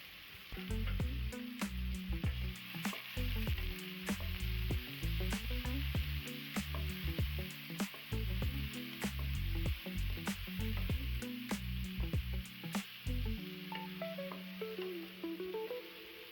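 Garlic paste sizzling in hot oil for Bengali beef kosha, stirred steadily with a spatula that scrapes and clicks against the pan in a regular rhythm. The close, continuous frying ends near the finish.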